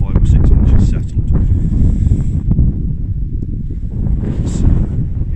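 Wind gusts across snowy Dartmoor moorland, buffeting the microphone with a loud, rumbling roar that swells and eases throughout.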